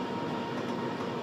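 Inside a Deutsche Bahn train, a steady low rumble of the moving carriage fills a brief moment of riding noise, faint and even with no voices.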